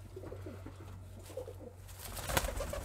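Pigeons coo softly nearby in a loft, low rolling throaty calls repeating through the moment beneath a quiet hum, with no talking.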